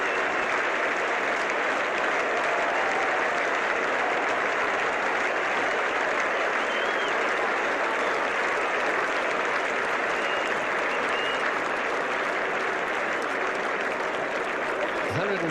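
At Lord's during the 1975 World Cup final between Australia and West Indies, the cricket crowd and Australian fielders applaud Kallicharran's innings, a broad, steady roar of clapping that fills the ground, with a commentator speaking over it.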